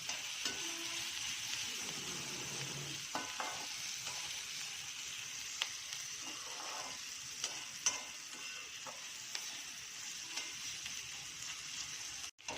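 Vegetables and cabbage fry in oil in a pan for pasta, a faint steady hiss and sizzle with occasional soft scrapes and taps of a spatula, fairly quiet and close.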